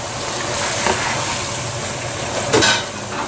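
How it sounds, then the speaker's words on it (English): Leeks for a mini chicken pie cook in a pan with a close, steady sizzle, marked by a few brief scraping stirs and a soft knock near the end, without any speech. "we're just going to let the leeks cook a little bit"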